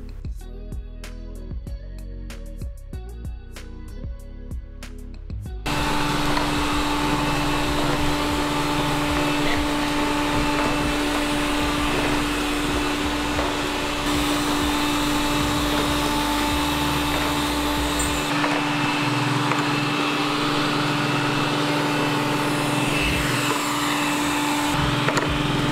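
A Deebot U2 Pro robot vacuum cleaner picking up dog and rabbit hair indoors: a steady, loud whirring drone with a constant motor hum that runs without a break, after some brief clicking at the start.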